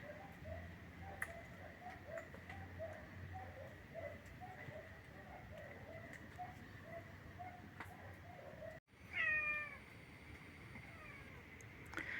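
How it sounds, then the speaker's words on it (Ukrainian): A cat in a backyard gives a short run of meows outdoors, faint and somewhat distant, after a stretch of quiet repeated chirps and ticking ambience. "Не пойму, чого коти збіглись усі до двора."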